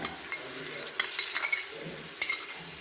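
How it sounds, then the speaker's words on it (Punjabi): Ground tomato stirred into a hot pan for a desi black chickpea curry, with a soft steady sizzle and several sharp scrapes and clinks of a spoon against the pan. "ਟਮਾਟਰ ਪਾ ਕੇ ਆਪਾਂ ਇਹਨੂੰ ਭੁੰਨਾਂਗੇ"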